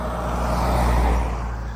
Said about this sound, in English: You can see the two cars passing